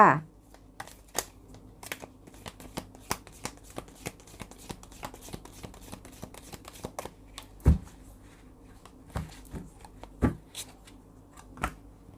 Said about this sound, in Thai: ขออนุญาตสับไพ่เพื่อเปิดดวงให้กับชาวมีนค่ะ